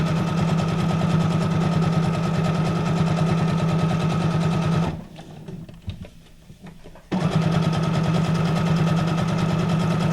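A Brother sewing machine stitching a decorative pattern: a rapid, steady mechanical needle clatter runs close and loud, stops for about two seconds, then resumes at the same pace.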